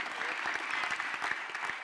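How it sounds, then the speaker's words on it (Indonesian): A crowd claps steadily, with dense, continuous applause filling the short stretch at even loudness and no clear voices on top. "Banyak amat yang tepuk tangan."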